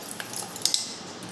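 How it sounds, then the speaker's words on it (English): A spoon stirs a soil sample with water in a glass beaker, giving a few light, faint clinks against the glass that end in a short pair of sharper taps. "Now stir it."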